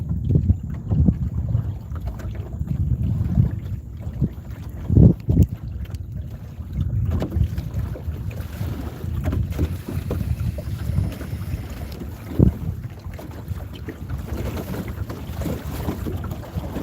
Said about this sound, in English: it's a little breezy out here and it's open.